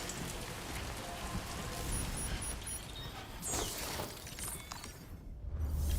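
Timefall rain pours steadily in a video game, a continuous hiss of rainfall on surfaces with a few brief sharper splashes, holding at an even level throughout without any speech.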